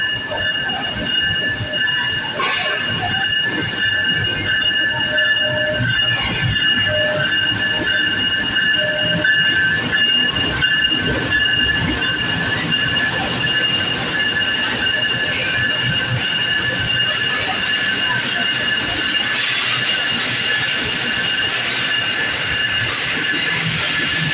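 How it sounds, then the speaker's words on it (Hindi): Khyber Mail express train rolling past at a station, a loud continuous rumble of wheels and carriages with steady high whistle-like squeal tones running throughout, plus bursts of clatter; faint voices now and then. "अब इसका शोर भी और विसल भी सुनाई देगी आपको"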